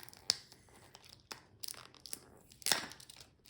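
Tape torn off the packaging of a Dimensions Gold stocking stitching kit: several sharp ripping and crinkling bursts at close range, with one longer tear near the end and quiet gaps between, no talking.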